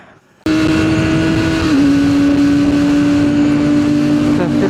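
A motorcycle heading out on a road trip to Terengganu starts off with a sudden loud, steady engine drone and wind rush that holds at a constant pitch after a quiet opening.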